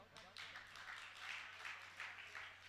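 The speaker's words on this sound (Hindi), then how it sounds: "बजाओ ताली।" Audience at a Hindi religious gathering clapping on request, a quiet, distant patter of scattered claps in several short bursts with no voices.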